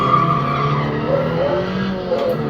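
A race car in a video game drag race roars at sustained high revs with tire squeal, the engine tone shifting slightly as it accelerates; loud and continuous, with no voices.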